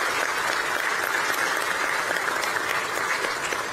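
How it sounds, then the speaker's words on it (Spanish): Strong, steady applause from an audience at a formal accountability report presentation, honoring foreign ambassadors and embassy representatives; dense, continuous clapping held evenly throughout without a break. "Pido un fuerte aplauso para ellos."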